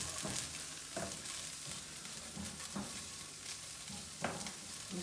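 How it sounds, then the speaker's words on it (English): Garlic and ginger fry in a pan with a soft, continuous sizzle, punctuated every second or so by quiet scrapes of a utensil stirring; fairly faint and close, with no voices. "So, stir that all around. Give the garlic and the ginger a chance to cook."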